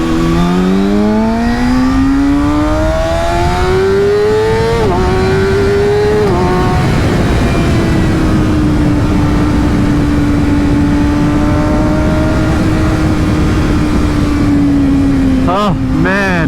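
Inline-four 600cc sportbike engine, a Yamaha R6 or Kawasaki ZX6R, revving loudly and up close, its pitch climbing through repeated sweeps, then holding a steady high drone before a few sharp blips at the end, with no talking over it.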